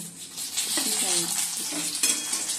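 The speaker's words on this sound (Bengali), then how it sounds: "চলো এই বন্ধুরা বেগনি করছি সোনার মতনই করে দিচ্ছি" Eggplant fritters (beguni) frying in oil in a pan, with a close, steady sizzle and a few clinks of a utensil stirring and turning them, no talking.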